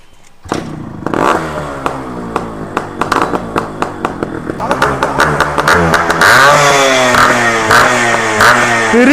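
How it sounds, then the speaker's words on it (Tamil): Motorcycle exhaust note at close range as a four-speed bike with stock, unported engine is started and revved, sputtering and popping at first, then building into a steady, louder rising roar. "கேஸ் இந்த வண்டி எக்ஸாஸ்ட் நோட் பார்ப்போம் நம்ம."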